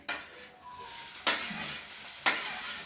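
Chopped onions go into hot oil with cumin and burst into sizzling, with three sharp hissing surges of frying and stirring in between, close and moderately loud.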